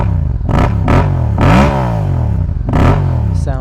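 A Yamaha FZ-07 motorcycle's exhaust rumbles up close with a steady, loud low drone, rising in a few short revs that swell and fall back to idle.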